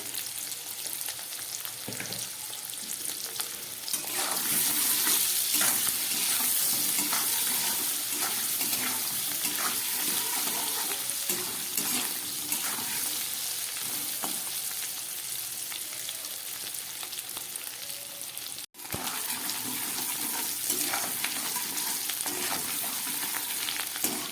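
Potatoes frying in a pan with salt and turmeric, a steady dense sizzle running throughout with occasional stirring scrapes and a brief dropout near the end; no voices.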